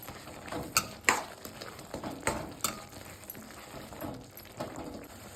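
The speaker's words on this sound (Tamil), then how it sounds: "போட்டு நல்லா கிண்டி விட்டுக்கலாம்." Spoon stirring tomato kootu in a pan after turmeric and chili powder go in, a few scraping clinks and knocks against the metal with a soft sizzle beneath, moderately close.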